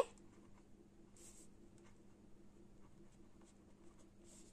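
A pen moves across paper while accounting notes are written out, giving faint, soft scratchy strokes in a few short bursts over a quiet room hum, with no one talking.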